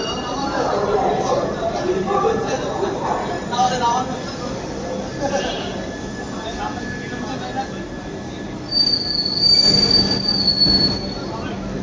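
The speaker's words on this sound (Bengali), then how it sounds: "ট্রেনের সিগন্যাল হয়ে গেছে আর আমাদের ট্রেন এখন বর্ধমান ছেড়ে যাচ্ছে।" The Howrah–Radhikapur Kulik Express, with new LHB coaches, pulls out of Bardhaman station, wheels squealing on the rails amid rumbling carriage noise while people talk nearby and a high whine rises near the end.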